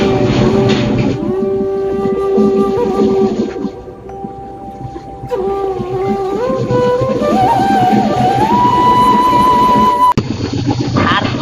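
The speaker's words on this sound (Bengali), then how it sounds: "আর অনেক শব্দ এই ট্রেনটার মধ্যে" Loud, continuous rumble and droning hum inside the moving Drutojan Express train between Thakurgaon and Dinajpur, with shifting whining tones rising and falling over a constant roar, and a brief jolt near the end.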